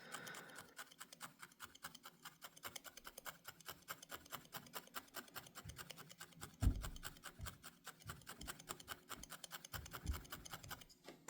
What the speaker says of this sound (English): She must be out there scratching the deck trying to make it softer for her.